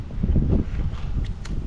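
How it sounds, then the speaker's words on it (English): Strong coastal wind buffets the microphone on a Red Sea shore, a steady low rumble with gusts rising and falling throughout. "It's so windy here."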